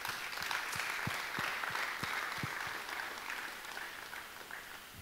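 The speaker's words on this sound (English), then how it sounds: "give yourselves a round of applause" Applause from the audience at a fathers' conference, a steady dense wash of many hands clapping that carries on for about five seconds at moderate level, with no voices over it.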